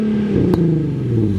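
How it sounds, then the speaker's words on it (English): A Nissan 370Z fitted with test pipes and open headers, its engine idling loudly up close and then blipped once in a short rev that quickly settles back down. "Rev it up, buddy."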